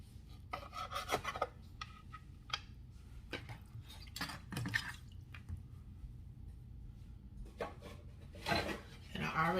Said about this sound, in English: and then I'm going to go back and cut them again.